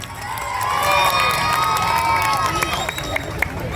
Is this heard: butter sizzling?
no